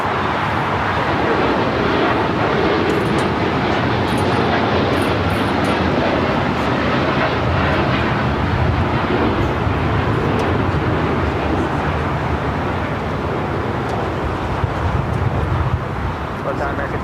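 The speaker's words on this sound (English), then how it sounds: "the flight heading to Osaka, Japan, now rolling down to 25 right" An airliner bound for Osaka, Japan, rolls down runway 25 right at Los Angeles International Airport, its engines giving a steady broad roar that holds loud and constant throughout, with traffic noise in the background.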